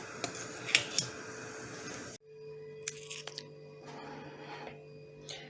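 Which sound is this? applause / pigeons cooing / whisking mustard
whisking mustard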